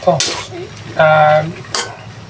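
Squash and string beans sautéed in a pan with flaked tuna, loud bursts of sizzle and stirring scrapes with a brief tonal clink, close and fairly loud.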